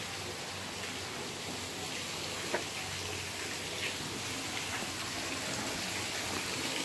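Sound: waterfall at a zoo

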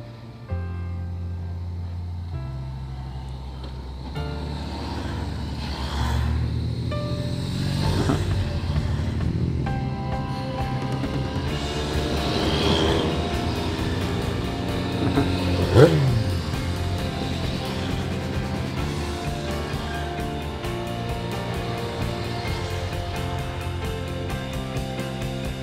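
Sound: motorcycles of a motorcycle tour riding past

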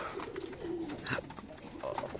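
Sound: pigeons cooing on a village pigeon farm

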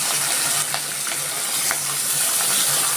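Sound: Bengali cooking: five-spice, bay leaf, chilli, onion sizzling in oil

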